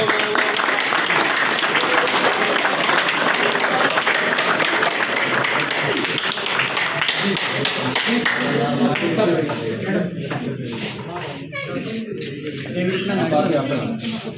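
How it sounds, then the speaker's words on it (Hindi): An audience at a gathering with blind people claps steadily at first, the dense patter thinning out toward the end, while voices talk over and after it. "चलिए तालियां बजाएं।"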